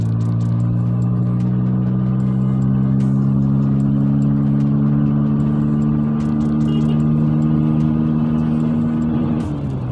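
A Bajaj Pulsar N160 motorcycle's engine holds a loud, steady drone as the bike accelerates on the road, its note rising slightly and sustained close by for ten seconds with no talking.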